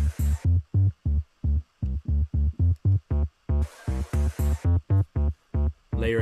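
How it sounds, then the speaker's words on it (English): A buzzy, distorted synthesizer bass pulses in short, rhythmic stabs, with bursts of bright noisy hiss layered in at times. "I like the fuzz bass kind of sound, so I'm gonna play around with fuzz bass"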